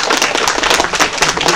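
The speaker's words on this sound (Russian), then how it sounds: "давайте мы им похлопаем" An audience at an Azure tech conference applauds the speakers with loud, dense, steady clapping that fills the hall from start to finish.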